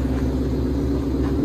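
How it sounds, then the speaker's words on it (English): A Ford Mustang Shelby GT500 engine idles with a loud, deep, steady rumble for a brief moment, heard close and unbroken. "Shelby GT500 Ford Mustang."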